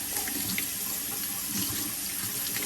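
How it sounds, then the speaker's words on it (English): Tap water runs steadily through an Arctic Spa hot tub filter being rinsed clean, a continuous close splashing hiss with no pauses or talk. "Let's run some water through it."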